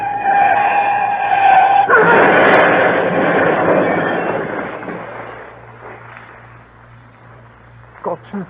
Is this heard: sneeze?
no